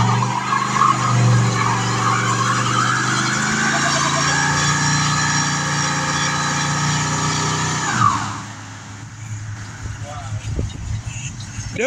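A 1973 Mercury Montego doing a burnout on private property, its engine revving hard under a long, loud tire squeal that cuts off abruptly, followed by quieter rumbling, with people talking and shouting nearby.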